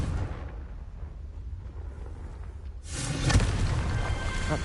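A Confringo fire spell in Hogwarts Legacy bursts loudly almost three seconds in, a sudden booming blast after a low rumbling lead-in, then a roaring crackle that fades slowly.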